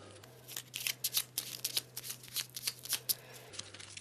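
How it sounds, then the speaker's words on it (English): Arkham Horror board game cards shuffled quickly by hand, a close, soft, continuous crackle of riffling card edges with no talking. "Quick shuffle, quick cut."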